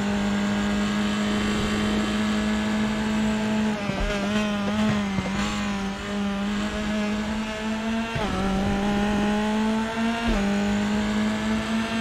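F3 race car in RaceRoom at the Aragon circuit, its engine screaming at full throttle close up, a sustained high whine that rises through gears with brief dips at shifts, steady and loud without talk.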